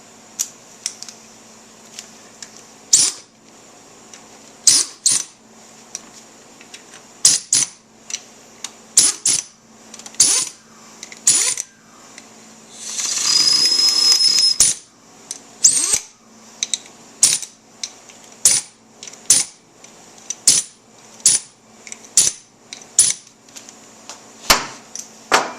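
Impact gun tightening the clutch bolts of a Wiseco clutch kit on a Yamaha YZ250F dirt bike, giving short loud rattling bursts again and again in an uneven rhythm, with one longer steady whir in the middle and no talking.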